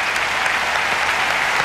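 Studio audience at a live German television entertainment show applauding and cheering in a dense, steady burst of clapping that fills the hall without a break.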